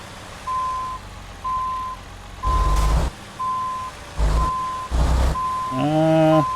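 A Western Star 49X truck reverses in American Truck Simulator: a loud, evenly spaced series of single-tone backup beeps over engine rumble, broken by bursts of air brake hiss, ending with a short rising horn-like chime.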